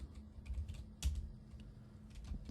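A few soft keystrokes on a computer keyboard as a folder name is entered, faint close taps over a low hum, with no voice.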